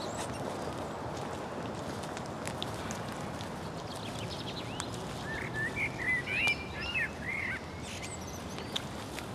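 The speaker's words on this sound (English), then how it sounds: "I can hear the bird song." Faint birdsong, with scattered chirps and a short burst of trilling calls, rises midway over a quiet, soft outdoor background.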